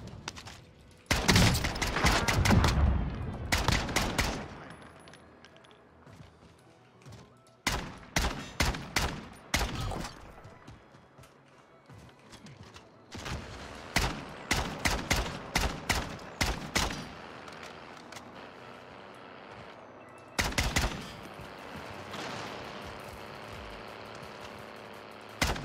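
Bursts of automatic gunfire from a Type-63 or Diamatti weapon in the video game Warzone, rapid volleys separated by short pauses, loud and close, with engine rumble faintly underneath.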